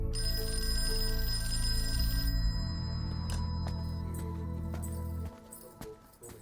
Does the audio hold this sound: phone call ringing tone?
yes